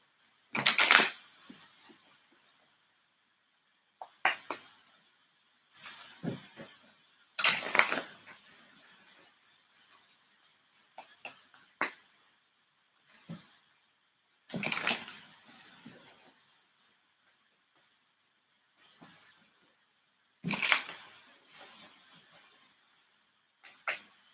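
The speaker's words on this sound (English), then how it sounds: "Let me shuffle these cards." A Black Tarot card deck is shuffled in short bursts, crisp riffling clicks and snaps separated by quiet pauses, close and fairly soft.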